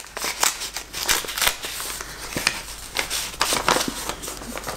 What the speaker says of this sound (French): Donc j'ouvre l'enveloppe et je vous ferai voir après.